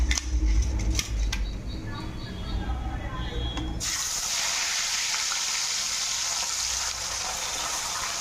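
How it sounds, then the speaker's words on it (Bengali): A few seconds of clattering and indistinct sounds give way to a sudden, steady, loud sizzle as rohu fish pieces go into hot oil and keep frying. "এগুলো আমি ভাজা হয়ে গেছে তুলে নিয়েছি এবার বাকি মাছগুলো দিয়ে দেবো"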